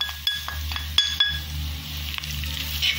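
Coriander powder sizzles as it is tossed into hot oil in a pan for an Indian mixed vegetable curry: a steady close frying hiss with a few sharp clinks of a utensil against the pan.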